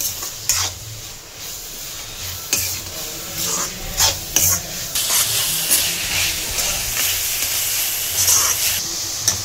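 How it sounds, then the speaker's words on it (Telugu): Vegetables fry in a hot pan with salt and turmeric, sizzling steadily while a spatula scrapes and stirs in irregular knocks, close by. "ఇప్పుడు వెజిటేబుల్ బాగా ఫ్రై చేయాలి."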